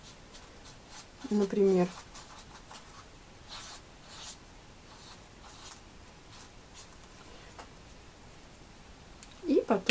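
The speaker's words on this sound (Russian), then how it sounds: "Берем обычный бумажный лист, например, пишем какую-то заметочку для себя." A pen scratches out a short note on a plain paper sheet, faint and close, with brief strokes beneath someone speaking throughout.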